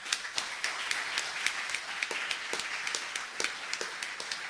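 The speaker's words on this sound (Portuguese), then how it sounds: "eu pediria para ela uma salva de palmas" Scattered applause at a Fernando Pessoa academic conference, with a modest group of people clapping in a loose, uneven rhythm. Individual claps stand out sharply against a quiet room.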